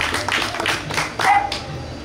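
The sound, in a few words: audience applause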